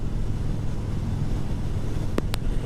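Steady, heavy wind roar buffets the microphone on a motorcycle riding the highway, a continuous low rumble with no voices.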